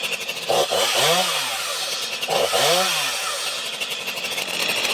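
A STIHL MS 251 C-BE chainsaw runs close and loud, its engine revving up twice in rising-and-falling surges over a steady rasping idle.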